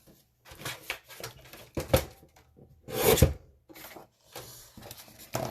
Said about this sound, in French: Donc là j'utilise le papier le plus épais. Je le découpe en deux.